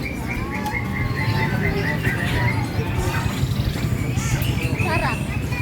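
Pigeons and other caged birds at a bird market in Malang, with steady close chirping and calling over dense crowd noise and people talking nearby.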